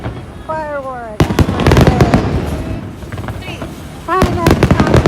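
Fireworks at the 2022 Kameoka fireworks festival in Japan: loud, close bursts and sharp crackling volleys fire one after another, with whistling rises at the start and a crowd talking and cheering underneath.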